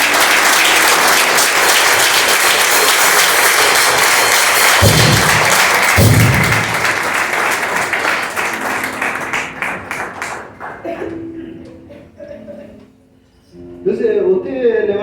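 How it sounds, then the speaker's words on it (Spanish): A church congregation applauds loudly and steadily during an evening service, the dense clapping filling the space for about ten seconds before fading out, with a few thumps along the way and a voice beginning to speak near the end. "Denle un aplauso poderoso a Dios."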